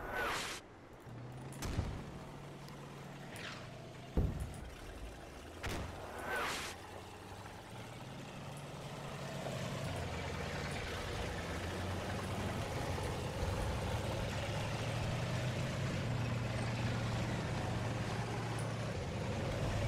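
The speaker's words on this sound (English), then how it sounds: "Love that engine sound." A German tank engine in the video game Combat Mission: Red Thunder hums and idles steadily for a long stretch, rising slightly in level, with a few sharp clicks and thumps early on.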